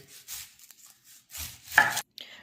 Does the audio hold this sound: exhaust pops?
no